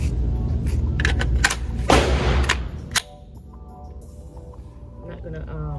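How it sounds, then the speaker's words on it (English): A .22 gun fires several sharp reports at a range, the loudest crack landing near the end amid closely spaced bangs, with people talking around the shots. "I want to shoot the 22 again so we can see what that recoil looks like."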